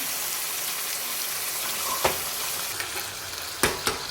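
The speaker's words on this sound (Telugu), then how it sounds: "ఈ చికెన్ అయితే ఇందులో వేసి అయితే కలుపుకుందాం ఇంకా మంచిగా కలుపుకోవాలి ఈ చికెన్ని" Chicken is stirred into a curry in a pan, a dense, close sizzle broken by a few sharp scraping clicks of the spoon against the metal.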